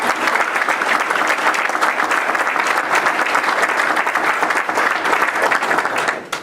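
A civic audience at a county government event gives a sheriff and his team a loud, steady round of applause, dense continuous clapping that holds at full strength for several seconds before tapering off at the end.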